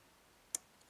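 A single sharp, crisp metallic click in a quiet setting, followed by a much fainter tick a moment later.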